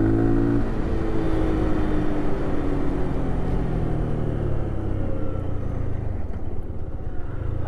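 A 2022 Lifan KPR 200 street motorcycle hums along under a steady ride, its engine droning over constant wind rumble with a slight rise in pitch early on.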